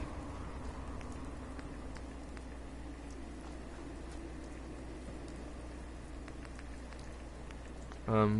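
Steady soft rain patters inside a Fallout 4 settlement, a faint even hiss with scattered drop ticks, ending in a brief louder tonal sound.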